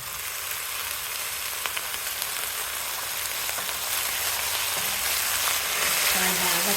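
Washed broccoli fries in a pan with a steady, dense sizzle and crackle that holds at an even level throughout, with no voices.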